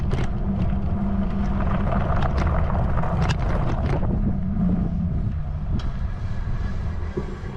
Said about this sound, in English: I'm not pedaling, I'm just letting the bike do all the work